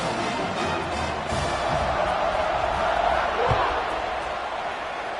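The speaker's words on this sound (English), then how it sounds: "this crowd is buzzing after that last score" A stadium crowd at a college football game, Air Force against ODU, buzzes with a dense, steady roar that swells slightly midway, while a commentator speaks over it.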